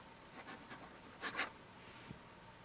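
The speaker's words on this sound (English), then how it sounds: "You can definitely hear the feedback on it, but I assure you that it's actually a pretty smooth pen." Vintage 1919 Conklin crescent filler fountain pen writing on paper, a faint close scratchy nib feedback in short strokes over a quiet background.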